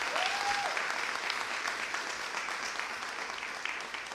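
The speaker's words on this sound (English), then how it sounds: "give a round of applause to everyone here at the Carol Robertson Center for Learning" Steady applause from an audience at the Carol Robertson Center for Learning in Chicago, a dense even wash of clapping that holds for several seconds at moderate distance, with a brief tonal whistle near the start.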